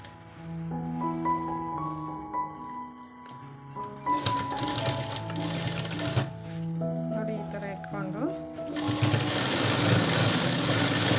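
A sewing machine stitches a churidar pant in short rattling runs, fast rhythmic clatter starting and stopping close by, with background tones and a voice talking between bursts.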